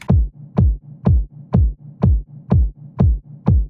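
A layered electronic kick built from four elements with a wide trance-style low rumble pounds eight times in a steady four-on-the-floor pulse, each punchy hit sweeping downward into a booming tail that fills the gaps between beats.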